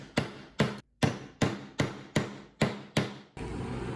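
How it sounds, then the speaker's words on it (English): A hammer drives a dowel into a wooden leg of a modern plant stand: about eight sharp, evenly spaced blows, close and loud, each decaying quickly, followed by a steady hiss. "Hammering in a dowel, snapped it right across"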